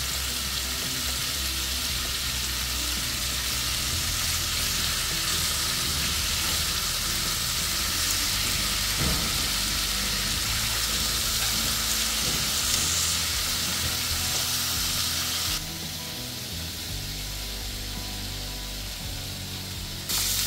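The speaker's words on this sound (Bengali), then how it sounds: "চিকেনটা আমার ভাজা হয়ে গেছে।" Chicken for butter chicken sizzles and crackles steadily in a hot pan, a loud continuous fry that drops slightly near the end, with no talking.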